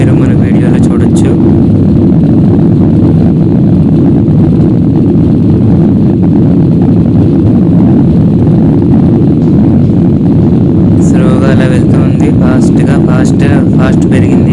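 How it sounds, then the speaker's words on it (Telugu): A passenger airliner accelerating down the runway for takeoff, heard from inside the cabin as a loud, steady engine roar that builds and holds throughout, with faint voices and brief rattles near the end. "రన్వేలో చాలా స్పీడ్గా చాలా ఫాస్ట్గా వెళ్ళిన తర్వాత ఒకేసారి టేకప్ అవుతుంది"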